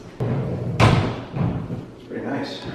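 Built-in cabinet doors in a New York City apartment thud and bump shut a few times, close by, with people talking over the sounds.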